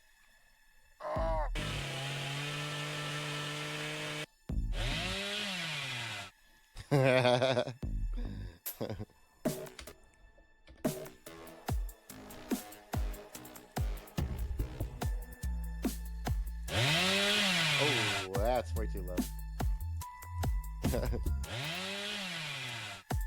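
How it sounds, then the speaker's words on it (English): A chainsaw sound sample plays in loud, revving bursts that rise and fall in pitch, repeatedly starting and stopping, with someone talking between and over the bursts. "Where's a chainsaw or something?"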